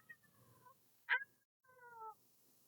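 Cats meowing for breakfast, close and fairly quiet: two drawn-out meows with a short sharp chirp between them, no talking.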